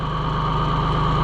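A John Deere 1020 tractor engine runs at a steady idle, a close, even low throbbing hum with a constant rhythmic pulse and no voices.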